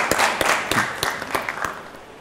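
Audience applause at a comedy stage show, heard as a short burst of scattered claps with a few sharp individual hits, moderately loud and fading slightly toward the end, with no one talking over it.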